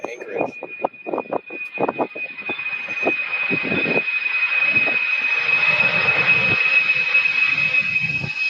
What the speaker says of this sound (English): after the 747-400 takes off